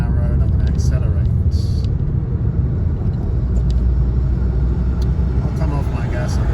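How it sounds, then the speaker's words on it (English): A car pulls away and accelerates on a 50 mph road as roadworks end, its steady engine rumble and road noise filling the cabin loudly and continuously. "Roadworks are ending, so 50-mile-an-hour road. I'm going to accelerate."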